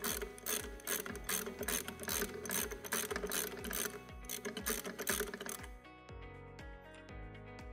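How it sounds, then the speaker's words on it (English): A 24mm socket on a ratchet winds out the adjustment piston of a Jaguar 800/900 forage harvester corn cracker, making a steady run of rapid, loud ratchet-pawl clicks over a low mechanical hum that shifts tone near the end. "simply use our 24mm socket and wind the adjustment piston out to our bleeding position"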